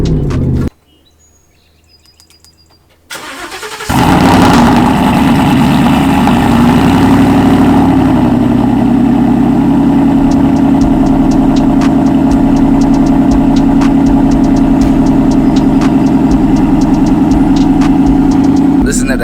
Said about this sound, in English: Listen to that thing idle.